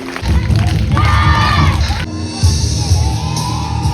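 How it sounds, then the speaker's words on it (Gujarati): A crowd cheering and shouting with whoops to welcome a performer named Sanjaybhai at a family dance gathering, loud and lively, with children's voices mixed in and a sudden shift in the noise partway through. "સંજયભાઈને જોરદાર તાલીઓના ગડગડાટથી વધાવીએ"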